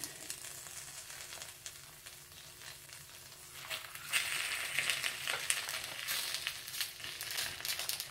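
Pieces of pre-fried karimeen (pearl spot fish) hiss and crackle in a hot pan while being cooked in banana leaves, a steady close sizzle that swells louder partway through and stays dense to the end, with no talking.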